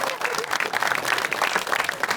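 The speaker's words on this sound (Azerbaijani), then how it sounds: "Bu alqışlar hər kəsindir. Çınarın bağını da alqışlayaq." A studio audience at an Azerbaijani comedy show applauds in a dense, steady wash of clapping from many hands, sustained and fairly loud throughout.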